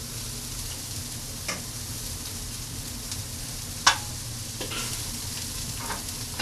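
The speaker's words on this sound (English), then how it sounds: "time to stir up some of this onion" Spoon stirring white onion as it sizzles in a hot pan, a steady frying hiss with a few sharp scraping clicks and knocks scattered through, close up and alone without talk.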